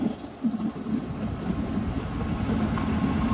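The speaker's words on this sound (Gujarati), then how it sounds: "ટ્રેનનો પાવો પણ સંભળાવા માંડ્યો છે જો ટ્રેન આવી ગઈ છે" A steady rumbling Indian Railways train arriving rolls on continuously, a low mechanical drone with rattling texture, fairly close and without any voices.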